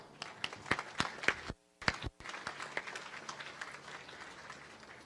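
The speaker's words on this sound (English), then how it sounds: "please join me in a round of applause" Audience applause at a naval ship christening ceremony for the USNS Navajo: scattered claps from a moderate crowd, briefly dropping out midway before resuming and fading into a steady patter.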